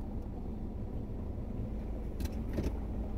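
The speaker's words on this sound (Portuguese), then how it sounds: "Vários carros passando pelas ruas" A steady low rumble of street traffic, with cars passing continuously at a distance and a faint higher hiss briefly rising.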